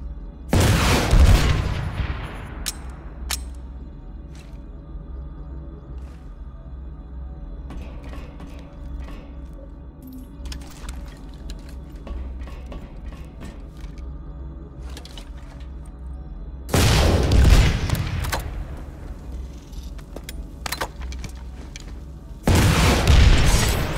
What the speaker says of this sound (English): Switch to your rocket launcher and use it to blow up an enemy vehicle.